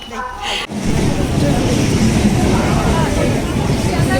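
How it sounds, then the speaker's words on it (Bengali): A train pulls into a station after heavy rain, a sustained loud rumble and rolling clatter building in after a brief quieter moment, with crowd noise and voices underneath. "ট্রেন চলে এসে চলো এবার ওঠা যাবে ট্রেনে"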